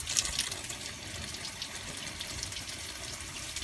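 Water flushes steadily through the cooling system of a Ford Fiesta XR2i engine, a continuous close rushing and gushing with no pauses or voices.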